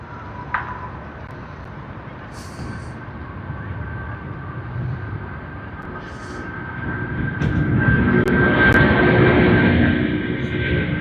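A steady jet roar swells gradually, growing louder toward the end as the aircraft nears at Sydney Airport, with a broad rushing noise and a faint high whine.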